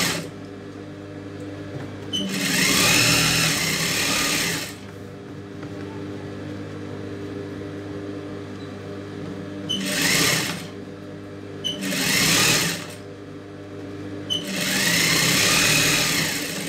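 A sewing machine stitches a blouse sleeve in several bursts, running steadily for a few seconds, stopping, then starting again, close and fairly loud with a low motor hum between runs and no speech.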